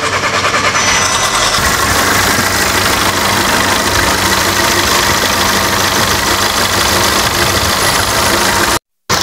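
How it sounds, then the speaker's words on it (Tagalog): Volkswagen Jetta 1.6L petrol engine with a replaced intercooler idling: a loud, steady, close drone with constant vibration that cuts out briefly near the end. "Engine on."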